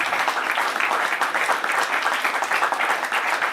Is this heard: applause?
yes